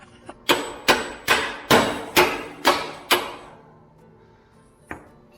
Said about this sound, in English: This hammer might be big enough.